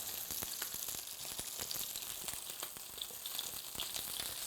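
Pork belly fries in a pan with a steady, dense sizzle and crackle, full of sharp popping spatters throughout, close and continuous with no talking.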